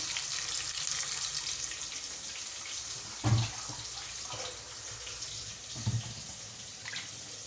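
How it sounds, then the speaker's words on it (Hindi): Water being strained off during cooking, a steady running and splashing wash of water with a couple of louder clunks and splashes in the middle, moderately quiet with no talk. "ये हमने पानी छान लिया सारा।"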